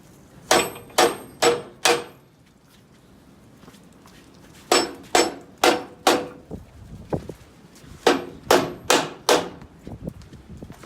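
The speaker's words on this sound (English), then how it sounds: "now I'm going to get the rubber mallet, pound this on, and see if it goes on like it should" A rubber mallet pounds a bumper part onto a Jeep CJ-5 in three quick bursts of about four firm, close blows each, with short pauses between the sets.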